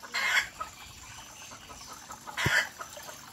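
A rooster and hens in an aviary make two loud, close bursts of clucking calls, one at the start and one near the end, with quieter rustling and faint scratching between them and no speech.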